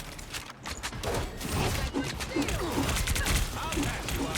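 Loki turrets firing in Marvel Rivals during an esports match, rapid repeated shots crackling in bursts under a busy game mix of effects.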